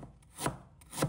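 A knife slicing a piece of fresh ginger on a chopping board, two distinct crisp cutting strokes about half a second apart, close and fairly quiet with no talking.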